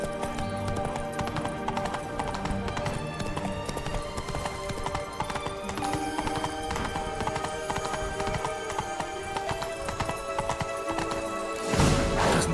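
Roach the horse clip-clops along in The Witcher 3 game, a continuous rhythmic run of hoofbeats over steady ambient game sound, ending with a brief burst of noise near the close; no voices.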